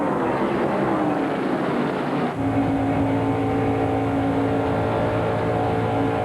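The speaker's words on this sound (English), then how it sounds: "This is Harris Devane's car, the camera on top of the vehicle." A 1996 ARCA stock race car at Daytona International Speedway, heard from a camera mounted on top of the car: a loud, continuous engine roar with a steady pitch shift midway, close and unbroken.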